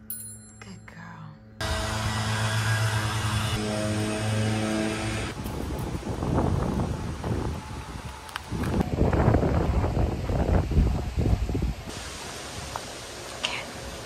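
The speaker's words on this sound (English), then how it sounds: "it is windy today and chilly." Gusty wind blows outdoors on a chilly day in Aruba, roaring broadband noise buffeting the microphone in surging waves after a short quieter opening.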